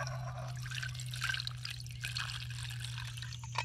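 Water poured into a camping pot at a campsite, a light steady trickle running throughout over a low constant hum.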